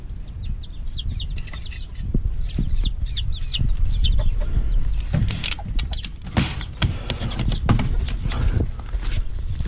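Chickens and a rooster in a yard, a rapid series of chirping clucks early on, then scattered louder calls and thumps at close range, with no talk.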